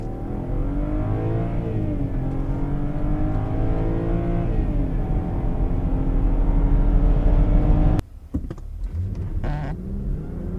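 A BMW 523i F11 estate from 2010, push-button started: a steady, loud engine hum with layered harmonics builds gently for about eight seconds, then cuts abruptly into a quieter, irregular rumble with faint clicks.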